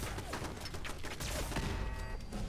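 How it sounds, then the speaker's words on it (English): Alien weapon fires in Fallout 4, a dense, continuous blast of sci-fi gunfire with crackling bursts and a brief ringing tone, loud and steady throughout, with no talk over it. "Looks like I'm using my alien weapon."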